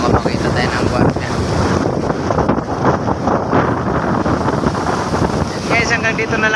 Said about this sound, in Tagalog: So, bawal kasi maligo dyan guys oh, kasi medyo malaki-laki yung alon.